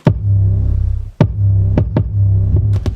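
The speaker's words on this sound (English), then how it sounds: "Pretty much the 808 ducks out when the kick comes in." A heavy sustained 808 bass drones and drops out sharply each time a kick drum hits, then swells back in, a pumping sidechained pattern.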